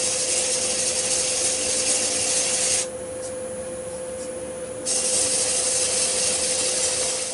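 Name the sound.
sanding a yew hollow form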